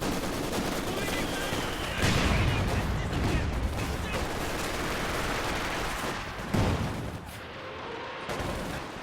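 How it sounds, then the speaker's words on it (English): Katyusha rocket artillery in Company of Heroes 2 lets loose a dense barrage, a continuous rush of whooshing launches and rolling booms with a few sharper impacts, loud and steady throughout. "Katyusha coming in"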